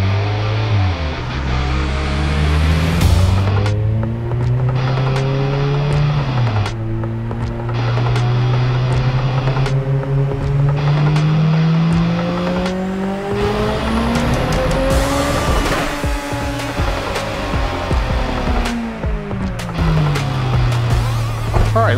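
A turbocharged car being driven hard on a tuning test run, engine loud and close as it climbs through the revs, drops back on each gear change and pulls again, with occasional tire chirps, no voices.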